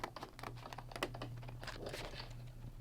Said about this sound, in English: Cut out the film to match your shape.